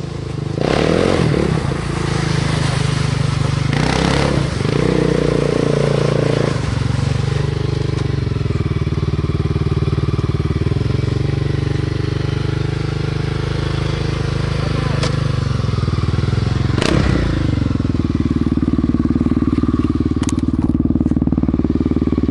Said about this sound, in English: Who knew the owner of the motorcycle museum would be drifting a quad around in the middle of winter?